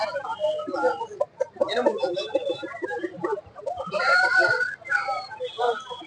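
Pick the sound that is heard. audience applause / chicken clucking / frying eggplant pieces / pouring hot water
chicken clucking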